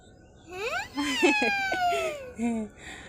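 A voice gives a rising, wavering trumpeting imitation of an elephant, drawn out over a couple of seconds, close and fairly loud.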